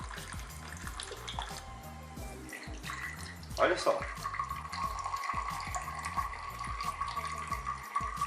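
Water runs continuously from a 2-liter PET bottle bee feeder, a steady gushing stream that grows stronger midway, with music playing underneath and a brief spoken remark.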